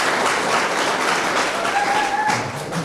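Audience applause at an independent presidential candidate's campaign event, a steady wash of clapping that fades slightly toward the end.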